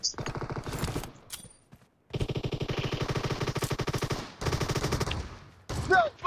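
Rapid automatic gunfire bursts in a PUBG Mobile match, loud and close, repeating in dense rattling volleys with brief pauses between them.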